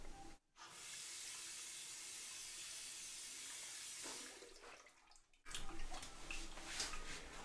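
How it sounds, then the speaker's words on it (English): Tap water gushes steadily into a sink, a hissy continuous stream that briefly cuts out, then splashes on with more uneven spattering. "I'm going to cut the water on"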